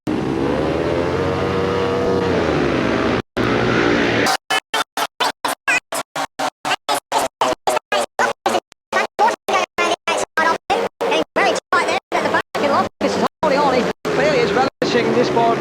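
Speedway motorcycles race in Heat 8 of the 1992 Barnum Trophy at King's Lynn, their engines roaring and revving under a commentator's voice. The sound breaks up into rapid choppy dropouts.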